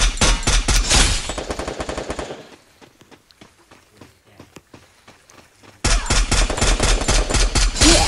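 Rapid automatic gunfire in a video game rattles in loud bursts, stops for a few seconds of quieter scattered sounds, then resumes just as intensely until the end.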